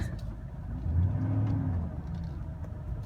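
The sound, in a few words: 2006 Chevrolet Silverado driving and reversing in four-wheel drive high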